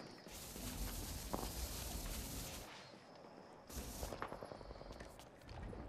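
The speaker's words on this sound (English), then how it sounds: "They're firing on me." Rapid gunfire in Apex Legends crackles in sustained bursts, fairly faint and distant, with a brief lull in the middle before the shooting resumes.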